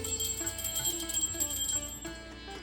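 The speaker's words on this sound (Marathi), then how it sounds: "चला वाजवा कुठे घंटी" A hand bell rings during a housewarming puja, with bright, sustained metallic tones and repeated strikes, fairly faint and close, with no talking.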